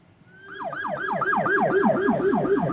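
An ambulance siren wails near a sports hall in Cipongkor, Indonesia, its rapid rising and falling yelp swelling in loudness and then holding close and strong, with no voices.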